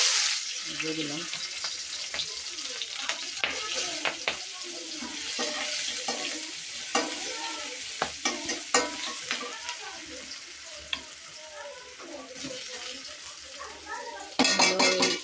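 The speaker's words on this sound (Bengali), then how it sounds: "তেলের মধ্যে এখন আমি পেঁয়াজ কষি আর হলো মরিচ একসাথে দিয়ে দিলাম।" Onion and chili frying in oil while being stirred, a continuous sizzle with frequent scraping and clattering of a utensil against the pan and a louder burst of frying at the very end.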